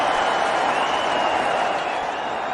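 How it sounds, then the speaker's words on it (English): A cricket crowd roars in a broad, steady ovation with applause throughout, loud and unbroken, filling the whole stadium. "There's a big ovation from the crowd as well."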